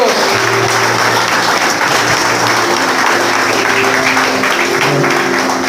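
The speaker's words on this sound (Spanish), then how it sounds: "Denle un fuerte aplauso al Señor." A Pentecostal church congregation applauds loudly and continuously, the steady dense clapping carrying on for several seconds, with low murmuring voices and tones beneath.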